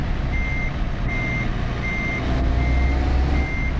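A truck in Euro Truck Simulator 2 reverses with a series of evenly spaced reversing beeps over a constant low diesel rumble, clear and close, with no talk.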